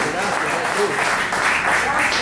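A church congregation claps during a Spanish-language sermon, producing a broad, steady wash of applause that fills the space, with a few voices mixed in.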